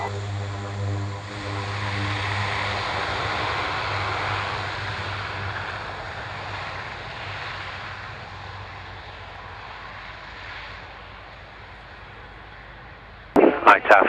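A Piper PA-28 light aircraft takes off at the Royal International Air Tattoo airshow, its propeller engine droning loud and steady, then slowly fading into the distance; radio voices talk over it, with sharp clicks at the end.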